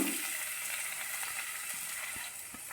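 Chopped onions hit hot oil with cumin for egg bhurji, producing a bright, steady sizzle close by, with a few soft stirring knocks toward the end and no talking.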